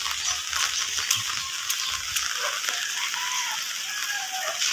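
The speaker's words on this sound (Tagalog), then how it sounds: "Uulan pa rin hanggang ngayon, Merkules." Steady rain falling on a rainy Wednesday during a typhoon, a dense continuous hiss with scattered drop taps, fairly close and alone.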